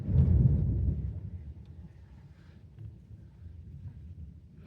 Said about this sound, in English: I'm not sure if you guys heard that, but it is thundering here